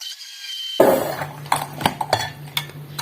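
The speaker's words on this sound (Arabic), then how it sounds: "كنطحنو شويه باش تذوب سنيده" A utensil clinks and scrapes against a bowl while yogurt and sugar are mixed into a cake batter, starting abruptly and then going on as a few sharp, irregular knocks in a quiet room.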